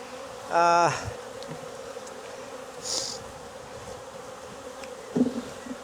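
Honeybees buzz steadily around an open hive in a Jacksonville, Florida apiary, a close insect drone with a louder buzzing pass near the start and quieter ones later.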